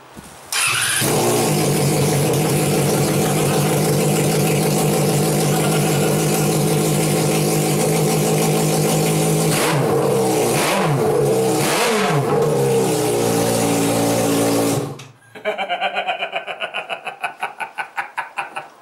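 A car engine roars loudly at high revs through a newly fitted exhaust for about fifteen seconds, wavering in pitch, then drops off to a rougher, quieter idle.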